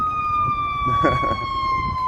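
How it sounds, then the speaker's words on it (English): An ambulance siren on the Wilmington, North Carolina riverwalk wails in a steady, slowly falling tone, loud and nearby, with a voice talking briefly underneath. "here comes sirens, Wilmington, North Carolina. It's an ambulance"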